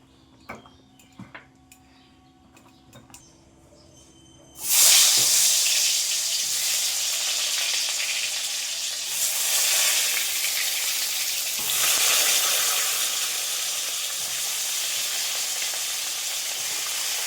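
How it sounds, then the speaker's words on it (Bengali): Pieces of pointed gourd (potol) drop into hot oil in a pan and burst into a loud, sustained sizzle that keeps crackling steadily, after a few quiet clicks beforehand, with no talking. "দেখো পটলগুলো ভাজতে ভাজতে লাল হয়ে গেছে"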